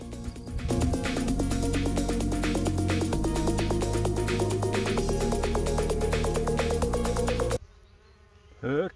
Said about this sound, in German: Ganz, ganz viele Bienen hat das da.